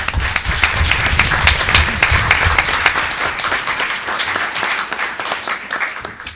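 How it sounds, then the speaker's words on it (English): Audience at a Homer Glen board meeting applauding award winners, dense sustained clapping from many hands that carries on steadily and eases off toward the end. "Let's give all the award winners a round of applause"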